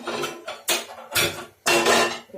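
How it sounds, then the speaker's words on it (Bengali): A metal pan set down on a gas stove burner in a home kitchen, heard as four separate sharp clanks of metal on metal, close and fairly loud, with brief quiet gaps between them. "প্যানটা বসালাম,"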